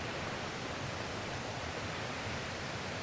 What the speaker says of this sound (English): So you can probably hear the water in the background there.